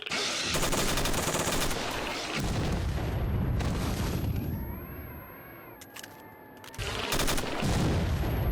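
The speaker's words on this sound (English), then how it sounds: "Oh, it's probably an Avenger firing at us." Heavy gunfire from an Avenger gun in the shooter game Stalker Narodnaya Solyanka: loud, dense bursts at the start and end with a quieter stretch in the middle, and no talking.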